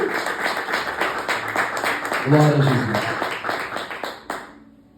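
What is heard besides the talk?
church congregation clapping and applauding for Jesus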